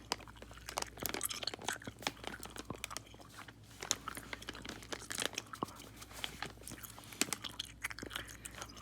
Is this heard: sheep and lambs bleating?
no